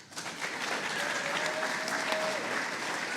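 Steady applause from a crowd, a dense wash of clapping that swells quickly and holds for a few seconds, with faint voices mixed underneath.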